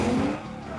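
A stunt car spins through 180s and 360s along a riverbed, tires squealing and skidding loudly in a continuous rush with no voices.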